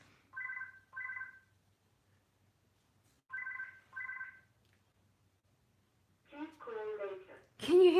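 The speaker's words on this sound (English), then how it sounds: "My house phone's ringing." A house phone rings in two pairs of electronic trills, then pauses and rings again, fairly loud in a quiet room; a voice speaks over it at the end.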